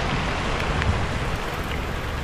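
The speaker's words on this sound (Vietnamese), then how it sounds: "Vừa về tới mưa luôn." Steady rain falling while out on a small boat, a dense even hiss of drops on water and surfaces with wind rumble throughout, close and continuous.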